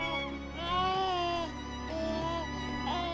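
A newborn baby lets out a thin, weak wailing cry in a series of sustained, wavering sobs with brief breaths between them, heard close and without any talking.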